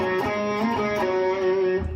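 A short electric guitar phrase with sliding notes and sustained, effect-coloured tone, ringing out clearly on its own.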